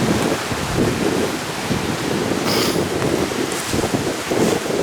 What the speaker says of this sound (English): you can see how windy it still is